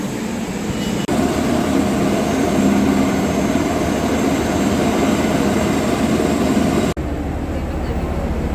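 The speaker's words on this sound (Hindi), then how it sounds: "ये इतना आवाज़ उस हेलीकॉप्टर का आ रहा है बस।" A helicopter near an airport in Sikkim fills the air with a loud, steady engine roar and whine, close and continuous, cutting off abruptly near the end.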